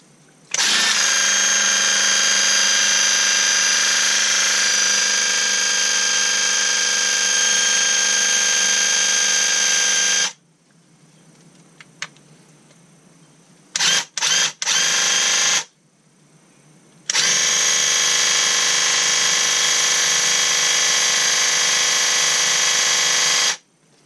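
Graco Ultra cordless handheld airless sprayer running while spraying during a cleaning flush, a loud steady motor-pump whine that cuts out for several seconds with a few short bursts, then resumes as a long continuous run.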